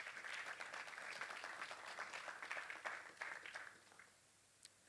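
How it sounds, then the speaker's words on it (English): Indoor audience at an estate planning symposium in Uganda clapping for themselves, a few seconds of brisk, moderately dense applause that trails off to scattered claps and near silence. "So let's clap for ourselves."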